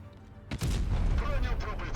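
A sudden heavy tank cannon blast in World of Tanks Blitz booms out, followed by a rumbling low-end tail and some game sound effects.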